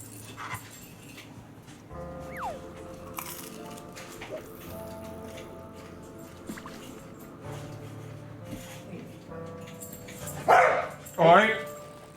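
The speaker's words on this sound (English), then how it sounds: "Hey, no barking." A dog barks in two loud, close bursts near the end, over a quiet room with someone talking and soft background tones.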